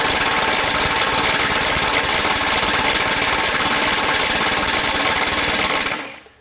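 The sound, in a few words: Kobalt XTR 24V impact wrench at 400 foot-pounds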